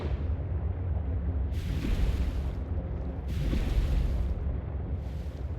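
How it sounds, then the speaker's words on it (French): Rolling thunder in the video game Subnautica: Below Zero rumbles continuously with deep booms, swelling twice into louder, crackling peaks over a low steady roar. "il y a de l'orage dans le jeu, ça va être canon à voir"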